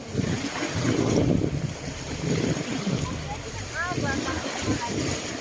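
A small boat sets off across the sea toward a nearby island off Panglao, Bohol, with steady wind buffeting, wave wash and a low engine rumble, while voices are heard faintly in the background.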